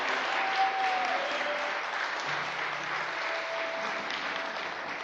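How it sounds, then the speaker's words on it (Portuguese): A church congregation applauds at a pastors' breakfast gathering, sustained joyful clapping filling the room at an even level, with a faint tone drifting underneath. "Vocês podem aplaudir o Senhor mais forte, com mais alegria?"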